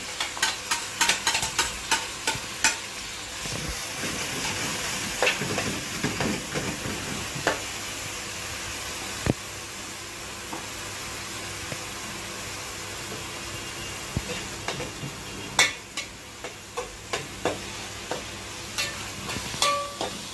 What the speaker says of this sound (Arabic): وبعد كده الزيت سخن هننزل عليه بالبصلتين المفرومين.